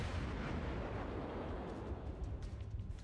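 A salvo of ship guns from a World of Warships naval battle, heard as a dense, rumbling roar of artillery that stays steady for about three seconds, with no voices.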